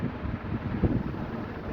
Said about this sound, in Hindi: अभी हवा चल रही है, धूल भरी आंधी चल रही है बाहर।